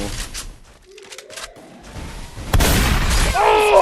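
Gunfire in the mobile battle game Free Fire: quiet, scattered game sounds give way to a dense, loud volley of shots in the second half, with continuous crackle and booming bursts.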